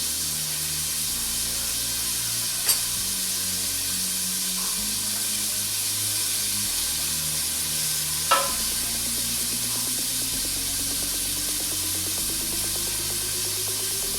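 Jambalaya ingredients fry in a pot with a steady, close sizzle and hiss, broken by a couple of sharp scraping stir clicks; a low background hum drifts underneath throughout.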